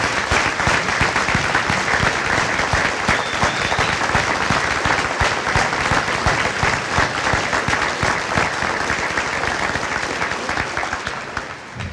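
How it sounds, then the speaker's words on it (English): An audience at a live event in a civic center applauds a speaker, dense sustained clapping that stays loud and even throughout before easing slightly at the end. "let's give him a round of applause"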